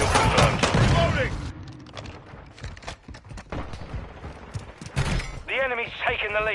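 Gunfire in Call of Duty MW2 on PS5: sharp bursts of shots and heavy thuds come at the start and again near the end, with quieter scattered pops between, while a voice calls out over the fighting.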